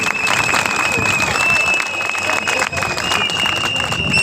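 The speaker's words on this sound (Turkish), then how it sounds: "Güçlü bir alkış istiyorum." A crowd at a political rally breaks into loud, sustained applause, with dense clapping and some cheering heard up close, and a shrill, steady tone running underneath.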